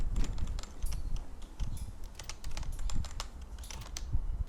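Fingers tapping a computer keyboard in quick, irregular bursts of close, clicky keystrokes, with no talk over them.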